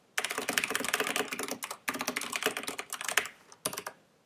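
Rapid typing on a computer keyboard while writing C++ code, with close, crisp key clicks in bursts separated by short pauses, with no talking.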